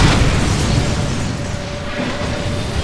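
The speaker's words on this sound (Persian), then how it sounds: "اینجا دیگه انفجار داریم در تصویر." A loud explosion in the video game Resident Evil 6 roars as a sustained, rumbling blast that slowly fades over a few seconds.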